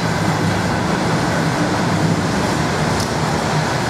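A train rumbles past close overhead, a steady heavy roar filling the whole clip with no voices.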